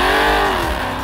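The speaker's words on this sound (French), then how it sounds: "La Dodge déboule comme une balle." A Dodge Charger SRT Hellcat Widebody with a 646-horsepower engine accelerates hard, its loud, close engine roar holding a steady rising drone with no voices over it.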